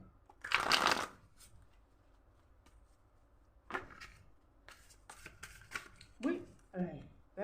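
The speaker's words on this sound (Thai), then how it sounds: "แล้วก็สับให้มันดีๆ แตกๆนะ" Tarot cards are riffled and shuffled in several quick bursts, a loud flurry at first then shorter papery flicks, close and intimate, with someone speaking softly between them.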